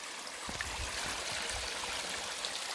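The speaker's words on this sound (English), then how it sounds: "in fact there's a waterfall here" A waterfall at Hackfall Woods rushes as a steady, faint broadband wash of falling water, continuous and somewhat distant, with no talk over it.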